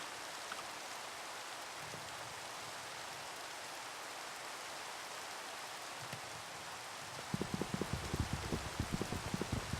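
Steady rain hisses in Minecraft as a constant soft wash of noise, with faint clicking taps joining near the end.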